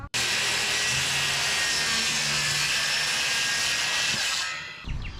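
A power saw cuts wood for flower boxes in one loud, steady whine that runs almost the whole time, then cuts out near the end.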